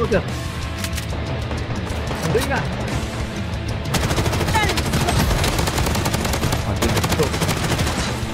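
Gunfire in the shooter game Blood Strike, with a P90 in use: rapid automatic bursts and scattered shots crackle across the whole stretch, loud and dense, while players talk over the shooting.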